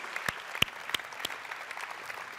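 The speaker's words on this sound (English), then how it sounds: "So big round of applause for all of these sponsors as well." Scattered clapping from a tech conference audience at SpringOne Platform 2019, a few sharp, distinct claps standing out over a soft, thin bed of applause.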